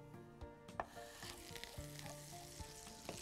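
A knob of butter melts in oil in a pan, sizzling with a faint, continuous crackle and occasional soft stirring knocks.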